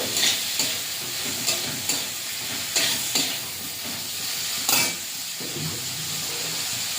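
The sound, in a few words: stirring ground cumin, ginger and coriander paste in a pan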